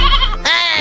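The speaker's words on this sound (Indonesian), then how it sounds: "Kambing itu kan masih kecil nih, lihat kambing Aye tuh gede kan" A young goat bleats loudly and close, two quick wavering cries in under a second with no talk over them.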